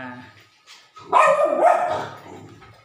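A single part-corgi mixed-breed dog gives a short, close bark that trails into a whiny yelp, then fades to quiet.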